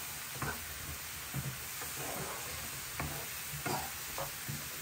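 Mushrooms cooking in a pan on high heat give a steady, quiet sizzle throughout, with occasional soft stirring knocks from a utensil.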